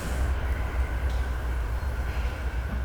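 A 1920s train on a Welsh railway rumbles past as a steady, dense low roar of wheels and carriages, close and continuous throughout, with no voices.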